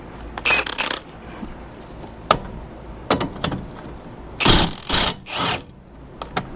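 A ratchet with a 17 mm socket works loose the front brake bolts on a 2013 Kia Soul. It makes sharp, close clicking bursts in irregular clusters, some rapid and rattling, with quiet gaps between them.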